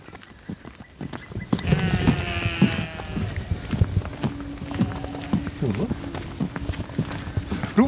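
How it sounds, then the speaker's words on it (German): Sheep on a vineyard farm bleating and shuffling nearby, several calls rising over footsteps and rustling, with people talking in German throughout. "Die Schafe, die warten schon auf mich."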